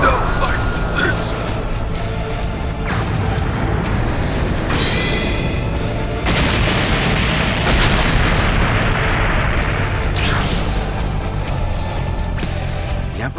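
Explosion in a Dragon Ball Super anime scene, a sustained roaring blast with layered booms and bursts over dense cartoon effects throughout.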